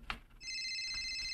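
A telephone rings with a steady electronic trill that starts after a brief soft knock and continues evenly at moderate level in a quiet room, with no voices.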